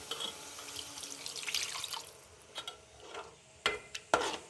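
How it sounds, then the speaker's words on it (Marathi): Water pours into a pan of Konkani masala fish curry, a gentle running splash followed by a few sharp drips and clinks, close and fairly quiet. "आता पाणी घालूया।"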